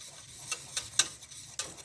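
A whisk clicks and taps sharply against a pot while frothing boiling milk for creamy coffee, four or five quick irregular strokes over a quiet background with no talking.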